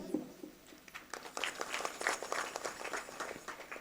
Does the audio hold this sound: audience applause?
yes